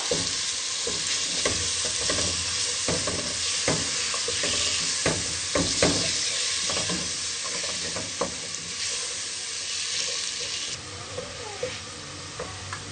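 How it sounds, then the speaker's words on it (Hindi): Onions sizzle and crackle steadily in hot ghee, with occasional scraping and stirring sounds, close up and fairly loud throughout. "अब प्याज शामिल करेंगे। अब हम इनको गोल्डन कर लेंगे।"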